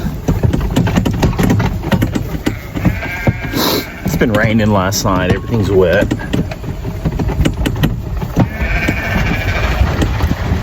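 Sheep bleat at morning feeding time on a homestead, a few wavering calls standing out over a loud, close, busy background of rustling and movement, while a person talks.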